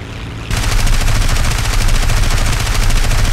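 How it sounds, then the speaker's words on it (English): Sustained, loud, rapid machine-gun fire in the War Thunder video game, bursting in abruptly after a brief quieter moment and continuing as a dense, unbroken rattle of shots, close and alone without speech. "I'm being shot at."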